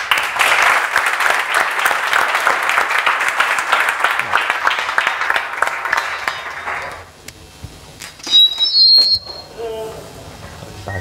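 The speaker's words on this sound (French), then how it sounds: "Donc j'aimerais que vous les applaudissiez." A demo day audience applauds loudly, dense clapping filling the room for several seconds before fading out, followed by faint whistle-like tones and scattered small sounds.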